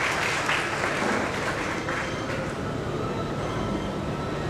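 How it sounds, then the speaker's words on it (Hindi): Loud, steady applause from an audience welcoming dignitaries seated on stage at a memorial tribute gathering for Rambrij Yadav, a dense unbroken clatter of many hands filling the whole stretch. "मंच पर बैठे हुए सभी मान्यवरों का हम जोरदार तालियों से उनका स्वागत करते हैं"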